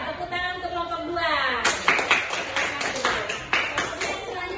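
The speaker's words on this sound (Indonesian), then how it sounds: "Tepuk tangan untuk kelompok 2." Applause from a classroom audience for a student group that has just presented, following a brief spoken line, with dense overlapping claps filling the rest of the moment at moderate loudness.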